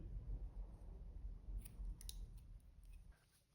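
Scissors snip through green crochet yarn close up, a couple of quick crisp cuts over a faint low background rustle.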